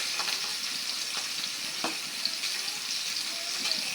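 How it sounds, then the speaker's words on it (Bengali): Pabda fish fry in a pan with a steady, close sizzling hiss and occasional soft pops and spatters, unbroken throughout. "মাছটা ভাজা হোক মাছটা ভাজা হলে আমি আর এক চুলায় পেঁয়াজ দেব"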